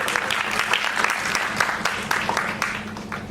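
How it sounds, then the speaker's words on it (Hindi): Loud, dense crowd applause at a Bollywood musical night, continuous clapping filling the whole stretch with a low steady hum underneath and a few louder bursts. "अपने लिए जोरदार तालियां बजाइए।"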